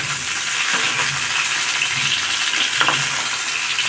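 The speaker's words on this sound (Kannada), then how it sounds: "Next tomato ಹುರ್ಕೊಳ್ಳೋಣ. ಒಂದು ಸ್ಪೂನ್ ಎಣ್ಣೆ ಹಾಕೊಂಡು" Tomatoes fry in a spoonful of oil for a bhindi gojju, a steady loud sizzle with soft occasional stirring scrapes close up.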